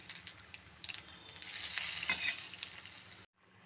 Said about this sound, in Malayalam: ഇനി തീ ഓഫാക്കി ഈ കടുക് വറുത്ത സാധനം നമുക്ക് വെന്ത് കിടക്കുന്ന ചക്കക്കുരു കറിയിലേക്ക് ഒഴിക്കാം.